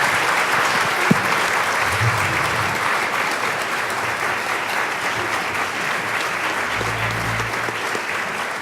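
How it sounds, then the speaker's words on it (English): Audience applause at an evening gathering fills the room steadily for about nine seconds, dense and even, with a few louder claps standing out near the start. "So let's have a round of applause."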